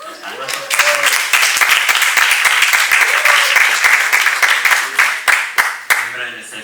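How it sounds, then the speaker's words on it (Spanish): An audience at a ballroom-scene talk applauds, brisk crowded clapping rising quickly and holding steady before thinning to a few scattered claps, with a voice briefly audible at the start and end. "los palmas, por favor"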